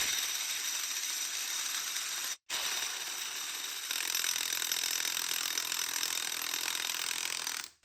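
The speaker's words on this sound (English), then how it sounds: "So I get the impact wrench out again just to see if any of that's loosened it off a little bit" An impact wrench hammers at a tight pinion nut on a truck's rear differential, a loud continuous rattling burst with one brief pause, then running on until cut off.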